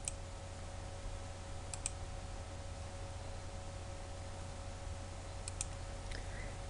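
A few faint mouse clicks, a pair near the start and another near the end, sound over a steady low hum of computer and room noise.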